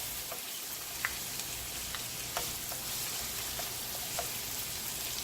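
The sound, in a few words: sun-dried tomatoes frying in pan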